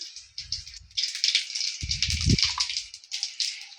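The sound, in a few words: cumin seeds sizzling in hot oil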